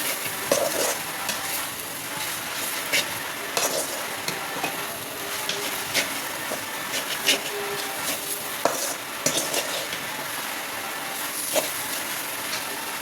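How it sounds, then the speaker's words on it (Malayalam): Masala being stirred and sautéed in a pan until its raw smell cooks off, a steady close sizzle broken by repeated scraping strokes of the spoon throughout, with no talking. "മസാലയുടെ ഒരു പച്ച സ്മെല്ല് പോകുന്നവരെ നന്നായിട്ട് വഴറ്റി കൊടുക്കാം."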